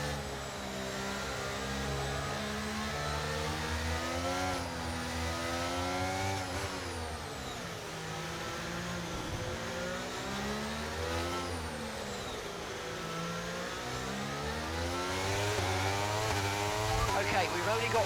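Formula 1 cars race in the F1 23 video game at Miami, high revving engines rising and falling through gear changes, a continuous loud whine of several cars close together.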